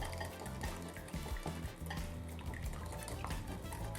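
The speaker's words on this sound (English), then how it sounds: "Second bowl, we're gonna add our eggs. And we're just gonna whisk this baby just like this." Eggs being whisked in a mixing bowl, a steady scraping and clinking of the whisk against the bowl running continuously over a low musical background.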